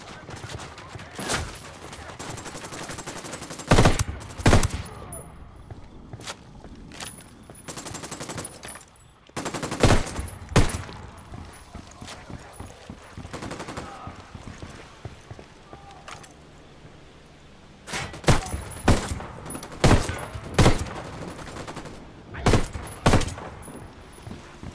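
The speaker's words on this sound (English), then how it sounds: "Fire for fucking cover." Gunfire in the Ghost Recon Wildlands video game: loud machine-gun bursts and single sharp shots keep breaking out across the scene in irregular clusters over a busy ambient bed.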